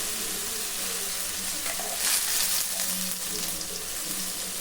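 Ground peanut paste sizzles and fries in a hot kadai over medium heat, a steady close crackle with occasional stirring scrapes.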